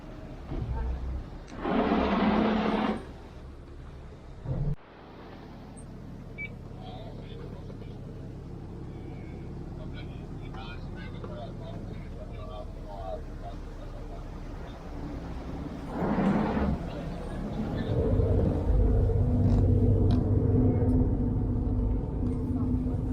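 A Venice water taxi's engine rumbles low and steady, growing louder toward the end, while people talk over it.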